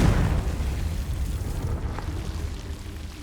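A fiery Confringo blasting spell from the Hogwarts Legacy video game explodes, a loud booming burst at the start whose rumbling tail fades gradually over a few seconds, with no talk.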